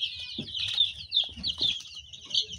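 Young chicks peep in a continuous cluster of high, thin chirps, close and fairly loud, with soft low rustling and shuffling beneath them.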